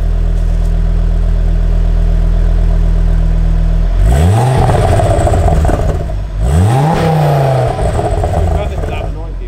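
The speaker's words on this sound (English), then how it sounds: "We need some exhaust noises." A Ford hot hatch engine idling with a low burble, then two sharp revs of the exhaust that rise and fall, loud and close.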